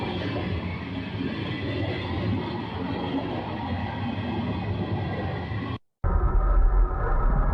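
A freight train that is on fire rolls through town with a steady, loud rumble of rail cars. The sound drops out briefly and then comes back heavier and closer.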